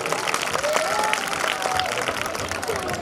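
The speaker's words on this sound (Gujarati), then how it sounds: "ફરી એકવાર ડાંગી નૃત્ય માટે તાળીઓ" Audience at a school annual function applauding a Dangi dance performance, a dense, steady wash of clapping with faint crowd voices and a whistle-like tone mixed in.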